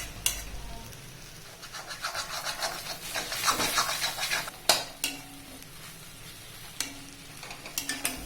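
Egg and shredded cabbage stirred and scraped in a pan for a cabbage egg stir-fry, a soft sizzle under uneven rubbing and scratching strokes, with a few sharper knocks of the spoon against the pan near the middle and end.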